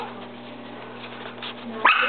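A small Chihuahua puppy gives one short, high yip near the end, following a stretch of steady low hum and faint background noise.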